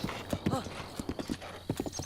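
A horse trots in Zelda: Breath of the Wild, hooves clip-clopping in a steady rhythm with a short whinny near the start, moderately loud, while someone talks over it.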